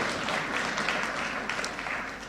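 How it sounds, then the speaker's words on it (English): A lecture audience claps steadily for a couple of seconds, a dense, even wash of applause without any voices on top. "We can use a lot of applause for this lady."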